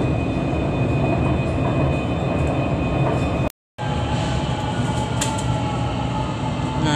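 A metro train pulls into a quiet, empty end-of-line station in Malaysia, a loud continuous rail roar with a steady whine and faint wheel squeal, broken by a brief cut in the middle.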